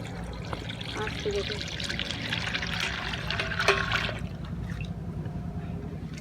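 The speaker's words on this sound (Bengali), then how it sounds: "এবারে উনানটা চালিয়ে নেব গরম করার মধ্যে এই গাই দুধটা ছেঁকে দিয়ে দেব" Cow's milk is strained and poured into a pan with a soft, steady trickling and splashing, while someone talks over it.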